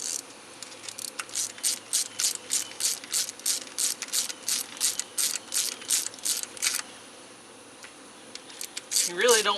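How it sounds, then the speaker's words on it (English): A ratchet tightens the coil pack bolts on a 2004 Pontiac Vibe engine, a quick run of rhythmic clicking strokes close up, followed by a pause and a brief scrape. "we gotta do is bolt down our coil packs"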